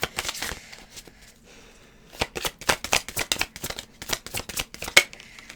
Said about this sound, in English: let me just keep shuffling then